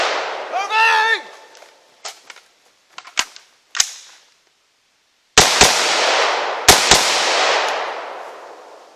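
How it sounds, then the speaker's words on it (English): Sharp gunshots during a combat reload drill with a tap-rack-bang malfunction clearance: a burst of shots, the mechanical clack of the slide being racked, then more loud, close shots with reverberating tails. "And that included a nice tap rack bang just for your benefit."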